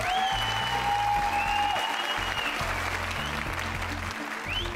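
Audience applauding teenagers on a television talent show, sustained even clapping filling the room while music tones play underneath, steady and moderately loud throughout.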